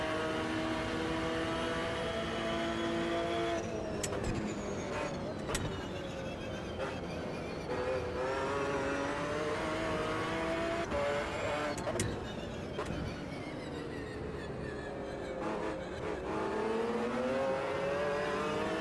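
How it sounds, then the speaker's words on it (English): Race car engine at low RPM in the sim racing game Automobilista 2, revving up and down in rising and falling sweeps with rough throttle blips and brief gear-change breaks, steady and close throughout. "This car sounds really good with low RPMs."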